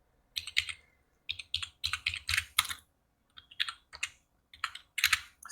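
Bursts of typing on a computer keyboard, clustered clicks in short runs separated by brief pauses, close and clear with no talking.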